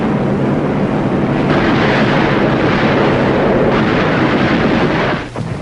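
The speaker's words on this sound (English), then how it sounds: "Big naval guns knock out shore-based installations." Big naval guns firing on shore installations during a WWII amphibious landing, heavy booming blasts rolling into one dense, loud, continuous roar that eases off near the end.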